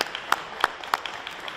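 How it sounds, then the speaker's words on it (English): A few sparse, separate claps ring out at a government ceremony for an Alberta affordable child-care agreement, roughly three distinct hand claps over quiet room tone rather than sustained applause. "Can we have a round of applause for Minister Gould, Minister Schulz for getting this done?"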